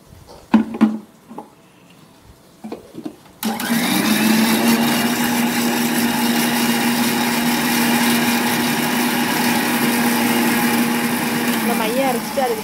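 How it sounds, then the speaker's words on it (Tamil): A mixer grinder jar whirring as it grinds green chillies with water for sago vadam, starting abruptly after brief talk and then running as a loud, steady high-pitched motor drone close by. "ஊற்றி நல்லா அரைச்சி வச்சுக்கிறோம்."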